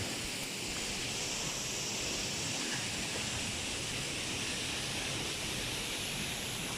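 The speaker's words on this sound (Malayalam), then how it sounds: "സംഭവം ചെറിയൊരു വാട്ടർഫോളാണ്" Small Vattayi Waterfall in Thrissur, a steady broadband rush of falling water, continuous and even without pauses, filling the scene at moderate distance with no speech over it.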